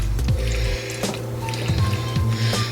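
Macaroni being stirred together with cheese sauce: wet squelching and sticky squishing, continuous and close, with a few soft clinks along the way.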